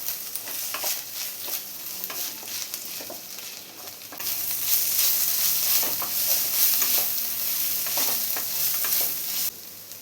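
Ginger garlic paste and onions sauté in a pan for chicken kurma, a steady close sizzle broken by scraping stirs that gets louder partway through, with no talking.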